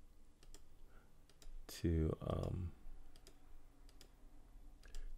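Computer keyboard keys and mouse clicks come as soft, scattered taps, faint and sparse in a quiet room. A voice speaks briefly partway through.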